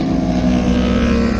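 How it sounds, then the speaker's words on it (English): Racing motorcycles, heavyweight bikes in a CCS Team Challenge endurance race at CMP, roar past together in a loud, steady engine drone with no speech over them. "There's our first and second bikes."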